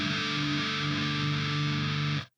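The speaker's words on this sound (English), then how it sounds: "This is a suspended chord" A distorted electric guitar sounds one suspended chord in drop D tuning, held loud and sustained for about two seconds before it is cut off sharply.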